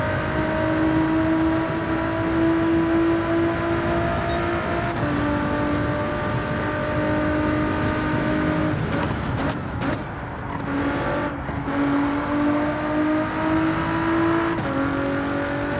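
A race car engine in Gran Turismo 7 holds a steady high drone through a flying lap, with pitch shifting as gears change and brief dips on braking. It sounds loud and continuous, with no talk.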